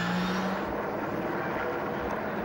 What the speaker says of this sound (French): Nous sommes ici à bord de la Porsche numéro 50 de Fabien Barthez